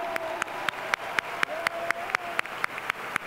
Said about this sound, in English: let's give a round of applause to these 4 amazing speakers and the 2 middle school students